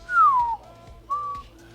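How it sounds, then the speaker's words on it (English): A roof-rack wind deflector on a 300 series Toyota LandCruiser gives off two clear, high whistles: a longer falling tone, then a shorter steady one after a brief pause, set against quiet background noise. "It's even got a little wind deflector, stop whistling."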